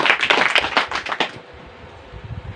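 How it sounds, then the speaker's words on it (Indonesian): Brief burst of hand clapping from a classroom audience during a 2020 PPG teaching exam at SMA Negeri 2 Takari; dense, fairly close claps fill the first second and a half, then fade into quiet room noise. "kasih tepuk tangan dulu"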